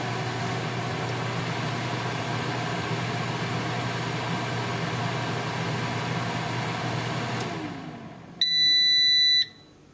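An air fryer's steady mechanical hum fades out as cooking finishes, then a loud electronic beep holds for about a second, alone and close by.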